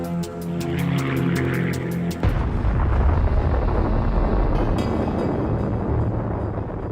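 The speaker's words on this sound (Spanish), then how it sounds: "Lester Tenney ve la explosión" Atomic bomb explosion over Nagasaki: after a brief musical passage, a sudden deep, sustained roaring blast rumbles loud and continuous for several seconds.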